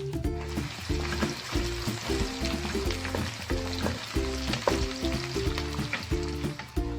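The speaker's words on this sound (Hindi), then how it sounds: "जितनी देर में हमारी भिंडी फ्राई हो रही है" Okra (bhindi) frying in ghee, with a dense continuous sizzle and crackle throughout and a steady low rhythmic mechanical hum underneath.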